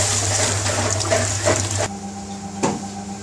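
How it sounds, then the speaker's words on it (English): Rice being washed in water for Indian restaurant-style pilau rice: a loud rush of sloshing water that stops suddenly partway through, leaving a quieter hum with one brief splash. "Now we need to wash the rice."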